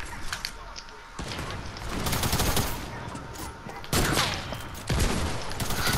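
Loud, dense bursts of gunfire in the video game Fortnite, with shotgun blasts and rapid shots overlapping in several clusters.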